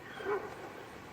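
A dog fetching a frisbee from the water at a campground in James Island County Park gives a single short, faint yip over distant outdoor ambience.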